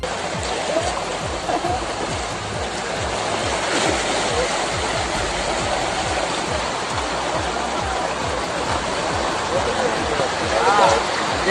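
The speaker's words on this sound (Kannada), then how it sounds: "ಹಳ್ಳ ಕೊಳ್ಳಗಳು ಉಕ್ಕಿ ಹರಿತಾ ಇದ್ದು ಮತ್ತಷ್ಟು ಪ್ರವಾಹದ ಭೀತಿ ಎದುರಾಗಿದೆ" Overflowing streams and gullies flooding after heavy rain in Andhra Pradesh, a steady loud rush of churning water that holds constant throughout.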